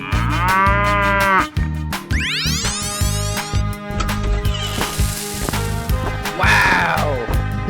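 A cartoon cow moos repeatedly in a 3D animal slide video game, loud and close, with music and game effects running underneath.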